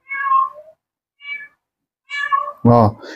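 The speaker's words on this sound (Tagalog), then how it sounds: "nakikita nyo yung ngaw-ngaw ng pusa ko" A pet cat meows several times in a quiet room, short separate calls with gaps between them and a louder, fuller meow at the end, close and clear.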